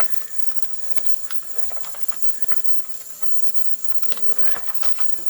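Harbor Freight ultrasonic cleaner running with a water and cleaner solution, a steady close hiss with faint ticking and crackling over it, constant throughout with no talk.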